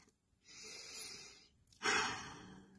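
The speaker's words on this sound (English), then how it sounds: "take a deep breath" A slow, deep breath drawn in and let out, soft and close, with a quiet gap and then a louder, rushing exhale or second breath near the end; no talk.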